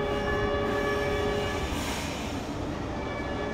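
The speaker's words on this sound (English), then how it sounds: "At dusk, the train enters Houma station." At dusk a train pulls into Houma station, with a continuous heavy rumble of wheels and carriages under a long, sustained, tonal horn that fades partway through.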